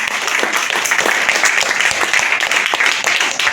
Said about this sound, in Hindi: एक बार आप सबके लिए जोरदार तालियां बजाइए